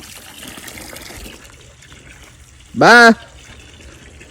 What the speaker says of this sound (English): I'm going to fill this thing slap up